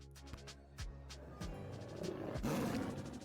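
A big cat creature in the Lil' Guardsman video game roars loudly in repeated rising growls, building over a few seconds with no talking over it.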